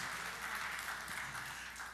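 A church congregation gives applause for Jesus during a sermon. Continuous, even clapping sounds somewhat distant and muffled, filling the room without a break.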